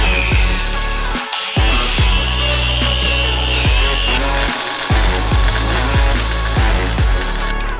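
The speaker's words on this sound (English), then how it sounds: "Just gotta finish boring these out, and then we can start welding these up." A power tool bores holes through the bumper of a rally Toyota Supra for Hella lights, a loud, harsh grinding that runs in repeated close bursts with short pauses between them.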